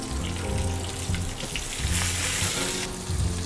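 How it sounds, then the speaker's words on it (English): Garlic sautéing in a hot pan produces a dense, steady sizzle and crackle close by, loud and continuous with no speech over it. "I'm gonna saute some garlic over here, and I'm gonna add some baby spinach just to finish our dish."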